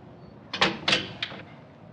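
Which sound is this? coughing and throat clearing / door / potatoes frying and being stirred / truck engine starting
door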